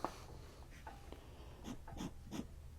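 An extra fine steel nib on a fountain pen scratches across paper in a few short, faint strokes, soft scratchy bursts with quiet pauses between them and no talking.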